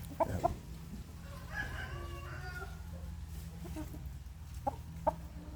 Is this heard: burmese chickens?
yes